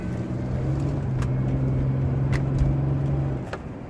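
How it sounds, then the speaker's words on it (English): A low, droning horn-like tone holds steady for about three seconds over a rumbling engine-like background, then cuts off. "That was a strange noise. Sounded like one of them old crank horns."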